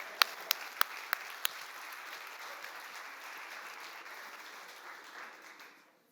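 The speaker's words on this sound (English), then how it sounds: "Applause for those 3 people." An audience applauds in a talk setting: a few sharp separate claps at first, then a steady soft wash of clapping that fades away, heard from a distance in a large room.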